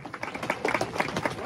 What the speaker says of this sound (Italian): Chiaramente l'applauso è per lui, non certamente per il Paolo